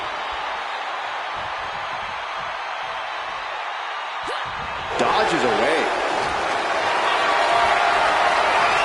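A virtual WWE 2K25 arena crowd swells into cheering after a slam, a broad roar under a commentator's voice.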